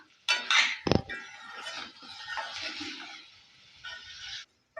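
A spoon stirs chicken liver fry in a pan, with a sharp metallic clink early on, then a steady sizzle and scraping under the stirring, close and moderately loud.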